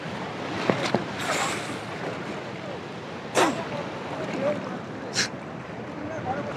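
Sea waves at Tajpur beach wash and roll in a broad, steady hiss with a few brighter surges of surf breaking nearby.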